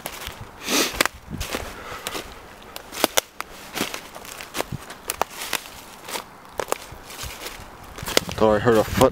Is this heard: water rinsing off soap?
no